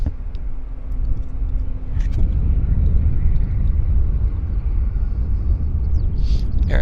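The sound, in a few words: heavy aircraft at Vancouver Airport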